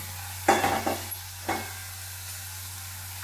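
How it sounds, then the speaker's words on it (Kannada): Tomato stirred into a frying bitter gourd curry, North Karnataka style, gives two or three close scraping strokes of a spoon in the pan, then a quieter low sizzle under a steady hum. "ನಾನೀಗ ಒಂದು ಟೊಮಾಟೊ ಹಣ್ಣು ಹಾಕಿದ್ದೆ ಅದನ್ನು ಮಿಕ್ಸ್ ಮಾಡ್ಕೊತಾ ಇದ್ದೀನಿ ಈಗ"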